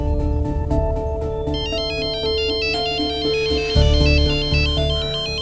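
A phone ringtone plays loudly, a melodic electronic tune of repeating chimes over a steady backing beat, with no voices.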